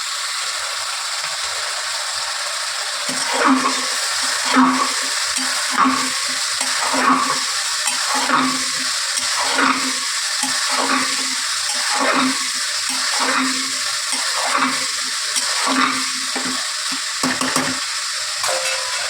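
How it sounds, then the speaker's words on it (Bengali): Boiled chickpeas and potatoes stirred together in a hot pan for a Punjabi-style chana, a rhythmic series of spoon scrapes over a constant sizzle, close and even, no one talking. "এর মধ্যে আমি সিদ্ধ করা চানাটা দিয়ে দেবো"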